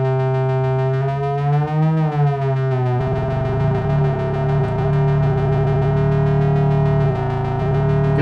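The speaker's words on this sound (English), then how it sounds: "Get that nice hard sync sound." Pittsburgh Modular Taiga synthesizer oscillator hard-synced to another oscillator's sine wave, a bright buzzing tone that sweeps and shifts its harmonics, then becomes a steadier, richer drone, loud and alone.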